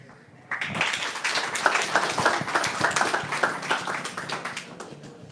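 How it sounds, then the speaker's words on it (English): A round of applause for a startup pitch at a tech event starts abruptly and continues as a moderate, fairly sparse clatter of individual claps from a modest audience. "So please, everyone, a round of applause for Kudos Radar."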